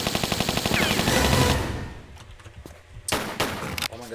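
Rapid automatic gunfire from the Tomb Raider 3 Remastered game, Crash Site level, a dense burst of shots for about a second and a half, then quieter scattered sounds and a few sharp loud bursts near the end.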